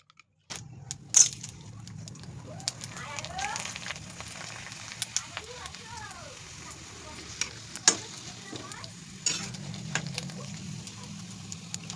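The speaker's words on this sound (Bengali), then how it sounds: "তারপরে 2টো পাঁপড় ভাজবো" Papad fries in a home kitchen with a soft sizzle and scattered sharp clicks and taps of utensils, close and fairly quiet, with brief chirpy background sounds in the middle.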